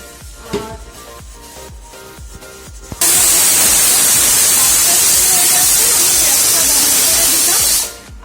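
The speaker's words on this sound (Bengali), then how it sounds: "ওই কড়াইতেই আমি একটা তেজপাতা, এই দুটো ছোট ছোট তেজপাতা আর শুকনো লঙ্কা একটা নিয়ে এইভাবে দুভাগ করে দিলাম।" Bay leaves and a halved dried red chili drop into hot oil in a kadai, setting off a sudden loud, dense sizzle that holds steadily for about five seconds and then cuts off, after a quieter stretch of soft kitchen sounds.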